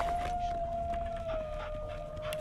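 A source hound in Divinity: Original Sin, a dog giving a long, steady howl-like whine over game background noise, sustained and fairly close.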